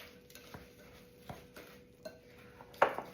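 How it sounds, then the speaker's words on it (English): A fork working butter, flour and sugar into a crumbly topping, giving soft scraping strokes and a few light clinks against the bowl at an unhurried, irregular pace, close by with no voices. "give this a mix with the fork"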